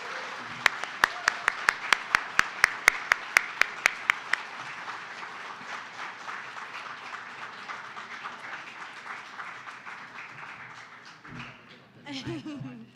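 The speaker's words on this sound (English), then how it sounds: "let's give him a round of applause" Audience applause at a live community crowdfunding event, with a burst of sharp, close individual claps at first, then sustained clapping from the room that fades out, and a voice speaking near the end.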